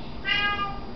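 A domestic cat gives a single short, fairly faint meow indoors, followed by a brief low thump at the very end.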